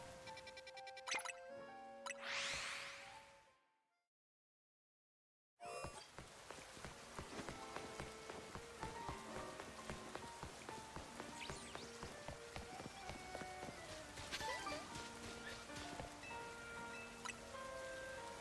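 Steady rain falls through a Pokémon Legends: Z-A game scene, a continuous even patter that runs under soft game music after a brief silent gap, with no talking.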